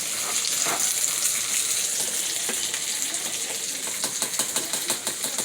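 Refried beans frying in a pan make a steady, dense sizzle with faint crackles throughout, and small pops and clicks turn sharper toward the end.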